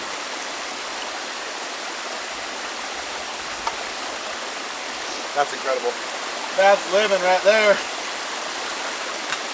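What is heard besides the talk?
spring water flowing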